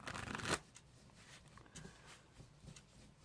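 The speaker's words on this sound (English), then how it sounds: "do you think that's been shuffled enough now?" A deck of playing cards being shuffled up close, with a loud riffle burst at the start followed by quieter rustling and soft handling noises.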